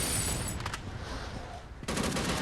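Rapid automatic gunfire in the mobile shooter game Unkilled hammers at a boss in dense, continuous bursts, loud and close, with a brief dip in the middle before the shooting resumes.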